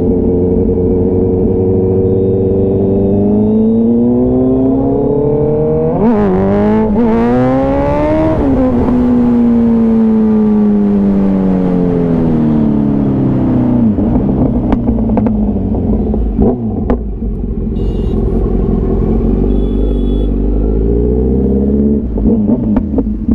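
A Kawasaki Z900 motorcycle with a full-system exhaust revs hard and loud, the engine note climbing and falling through several sustained throttle sweeps with sharp crackles near the end, close by and steady throughout.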